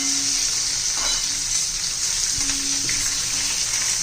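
Green chilies and split mustard seeds fry in oil with a strong, even sizzle, broken by a few soft stirring scrapes, close up with no voices.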